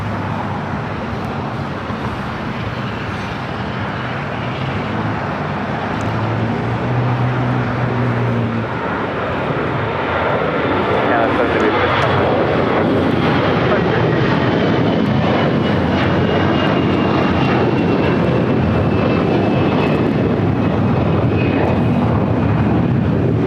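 An Airbus A380 jet airliner roars loudly at LAX, a sustained broadband engine rumble that builds and stays strong close by, with a faint whining tone sweeping across it.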